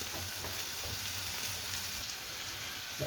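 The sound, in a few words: stirring chopped wilted spinach into lamb curry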